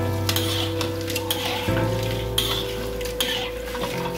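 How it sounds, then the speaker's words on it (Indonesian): Crispy vegetarian shredded meat made from jumbo protein pieces sizzles steadily in hot frying oil while it is stirred and turned, with light scraping and clinks of a utensil against the pan, close and continuous. "kita goreng sampai warnanya merah keemasan. Kita bolak-balik supaya rata semua sisinya"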